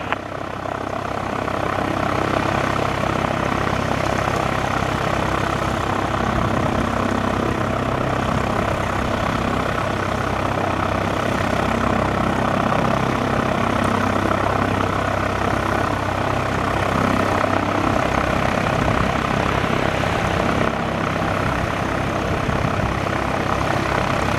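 Piper PA-28 Warrior II propeller airplane at Northeast Philadelphia Airport, heard as a loud, steady engine and propeller drone that holds without a break throughout.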